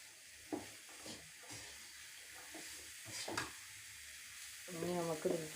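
Bitter gourd and beetroot pieces for a pickle sauté in a pan with a faint, steady sizzle, broken by occasional spoon scrapes as they are stirred. A voice speaks briefly near the end.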